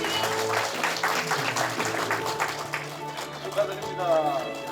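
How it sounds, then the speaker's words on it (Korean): An audience at an investment-attraction award ceremony applauds steadily for several seconds, with an announcer's voice carrying over the clapping in a large hall. "여러분 다시 한번 큰 박수로 축하해 주십시오"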